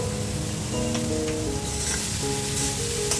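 Vegetable momo filling sautés in a pan over high flame with a pinch of salt, making a loud, continuous sizzle with occasional scraping stirs and no talk.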